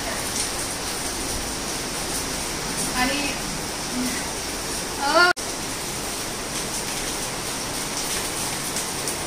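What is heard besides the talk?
rain falling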